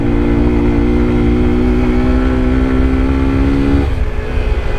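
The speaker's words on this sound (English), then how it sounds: "Maxing out third gear on the off-road." A scooter engine revs hard at high pitch while held near the top of third gear on an off-road track, loud and sustained, then dips briefly as the throttle eases.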